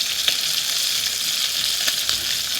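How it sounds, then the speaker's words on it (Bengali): Rohu fish pieces fry in hot oil with a loud, steady sizzle and scattered crackling pops, close up and continuous throughout. "তারপর মাছগুলা দিয়ে দিলাম। মাছ ভাজতে গেলে গরম তেলের ছাঁকা খাইতেই হয়।"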